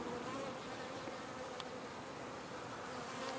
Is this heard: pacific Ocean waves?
no